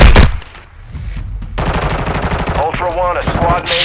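Rapid automatic gunfire in a Call of Duty match opens with a loud burst, pauses briefly and then returns as dense, continuous firing. Faint talk can be heard partway through.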